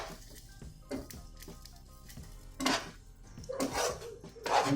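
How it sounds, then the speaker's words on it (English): Pasta carbonara noodles tossed in a pan with bacon or pancetta, giving a run of clattering metal scrapes and soft wet squishes that grow louder and denser toward the end, close by with no talk. "So I'm going to toss this around in the pan for a second."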